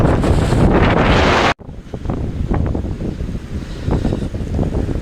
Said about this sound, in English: this is where all the winds come from across the Atlantic, right into my face